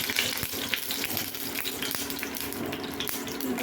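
Mustard seed five-spice mix and dried red chilies sizzle in hot oil in a kadai for masoor dal, a steady broadband crackle with scattered pops, continuous and fairly close, with no talking.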